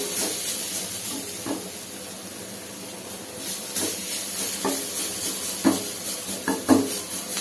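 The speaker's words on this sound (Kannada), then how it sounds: "ಈಗ ಹುರಿದು ಬಿಡಿ." Turmeric frying in a pan gives a steady broad hiss and sizzle throughout, with a few sharp clinks and scrapes of stirring toward the end; no talking.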